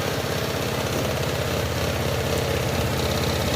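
Honda Click 125 V3 scooter engine running after being started, a loud close steady idle with even rapid putter and mechanical rattle throughout, no talk.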